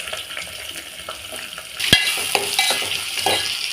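Green chillies and onion frying with mustard seeds in hot oil, a quiet crackle that swells into a louder, busier sizzle with a sharp pop and stirring clatter, close up with no talk.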